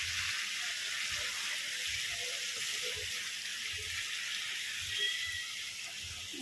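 Ginger-garlic paste sizzles in hot oil alongside a fried katla fish head, a continuous bright hiss with faint soft knocks underneath.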